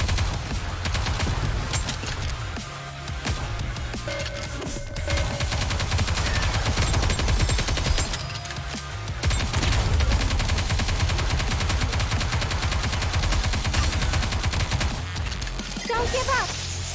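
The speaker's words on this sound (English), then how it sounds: "Focus fire! Faster, stronger, keep shooting!" Gunfire in the video game Nikke, sustained loud bursts of automatic shooting and battle noise throughout, with voices heard over the combat.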